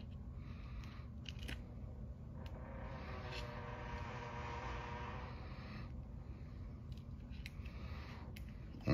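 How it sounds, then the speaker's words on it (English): Scissors snip and slide through paper, cutting out pieces for a handmade card, with a few crisp close cuts and a longer soft slicing stretch over a steady low room hum. "All right, we're just cutting. All right, cutting this out."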